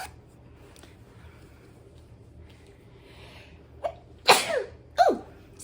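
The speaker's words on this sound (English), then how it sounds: "I didn't sneeze on my clothes" Two sharp sneezes close to the mic near the end, each a quick explosive burst, after a short intake of breath in a quiet room.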